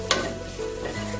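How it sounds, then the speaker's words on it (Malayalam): Cooked chicken sautéed with masala in a pan, a steady close sizzle with one brief stirring scrape near the start and soft clinks, no talking. "ഒരു 5 മിനിറ്റ് ഈ മസാലയായിട്ട് ഈ ചിക്കൻ നല്ലപോലെ ഒന്ന് വഴറ്റിയെടുക്കാം"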